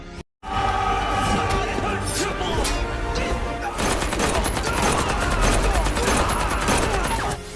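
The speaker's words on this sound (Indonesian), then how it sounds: "Baku tembak pun berlangsung cukup lama." Rapid bursts of gunfire crack and clatter nonstop in a film shootout after a brief silent gap, mixed with crashes and shouting, loud and chaotic.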